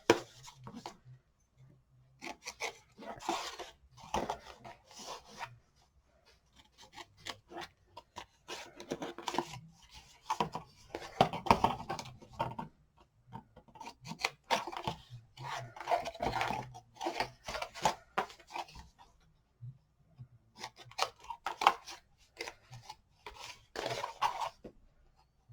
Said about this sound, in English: resting my scissors up against the corner of the chipboard and cutting it